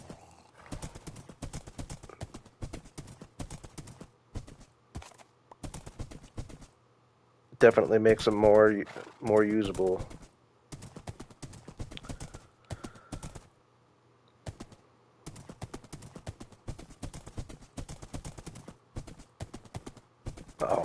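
Horses in Minecraft Bedrock Edition trot with quick, rhythmic clip-clop hoofbeats and let out a brief whinny, while a person keeps chatting over the game.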